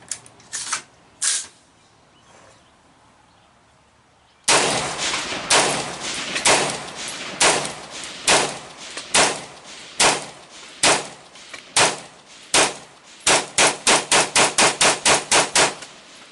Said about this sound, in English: let's give her a few shots down range and see how it does